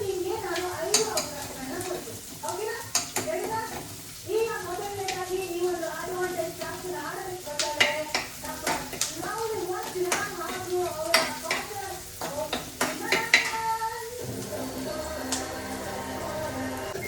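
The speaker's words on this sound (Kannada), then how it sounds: "ಎಲ್ಲ ಚೆನ್ನಾಗಿ ಫ್ರೈ ಆಗಬೇಕು." Chilies and spices frying in a pan while being stirred, a dense crackling sizzle with repeated scraping and knocking strokes throughout, up close, with a voice speaking over part of it.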